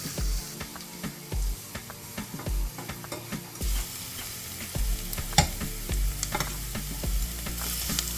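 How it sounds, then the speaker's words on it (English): Scallion and onion sauté in a pan, a constant sizzle broken by rhythmic stirring thumps and scrapes, close and moderately loud, without any talking. "I'm just saute this a bit just to release the flavor and the seasoning"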